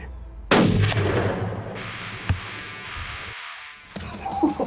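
A single sharp, loud muzzleloader rifle shot fired at a whitetail buck during an Iowa hunt, followed by a long rolling echo that fades over several seconds.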